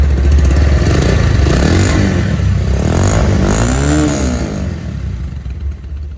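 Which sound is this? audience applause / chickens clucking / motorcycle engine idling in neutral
motorcycle engine idling in neutral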